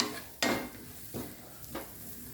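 Tender jackfruit fries in a pan on high flame, with three faint stirring scrapes over a soft sizzle.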